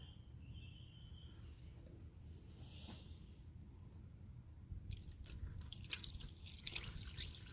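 Coolant poured into an empty radiator of a Toyota MA70 Supra with the engine off, a faint steady trickle over low rumble that turns into louder splashing and dripping toward the end.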